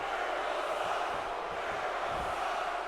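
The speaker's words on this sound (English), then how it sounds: "listen to the crowd here at WrestleMania, split. Some chanting for Jericho, some saying Jericho sucks" A large arena crowd at WrestleMania in the WWE 2K16 video game forms a dense, steady roar of distant voices and chanting, constant in level throughout without a clear rhythm and with no nearby talk.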